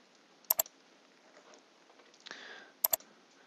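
A mouse click on the OK button in Excel sounds as a sharp double click near 0.5 s and another double click near 2.9 s, close and crisp over faint room noise.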